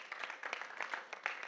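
A small audience gives a brief round of applause at a voice-over training session, quiet, loose clapping with a few distinct hand claps standing out.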